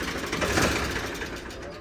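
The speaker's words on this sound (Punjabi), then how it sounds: "ਆਵਾਜ਼ ਬਹੁਤ ਸੋਹਣੀ ਆ ਟਰੈਕਟਰ ਦੀ" A Ford 3600 tractor engine runs steadily nearby with a low, throbbing drone, heard briefly and close.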